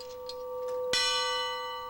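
A single clock bell strike rings out clearly, its bright metallic tone sustaining and slowly fading over a faint steady hum.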